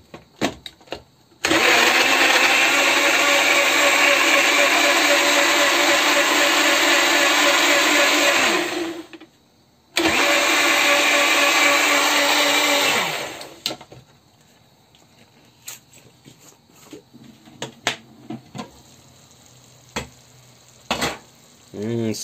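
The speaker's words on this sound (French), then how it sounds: "Et on passe au mixeur." An electric blender purees boiled tomatoes for a lamb harira soup in a long steady whir, stopping briefly and restarting before cutting out, followed by faint clinks and knocks.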